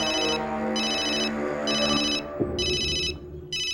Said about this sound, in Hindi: ये लो, फोन भी आ गया।